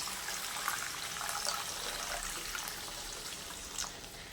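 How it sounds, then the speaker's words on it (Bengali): Water trickles and pours steadily into a cooking pot during a traditional village-style preparation of Katwa data (drumstick) curry, a soft continuous splashing stream at moderate distance, with no voices. "এইবার একটু আমি জল দেব"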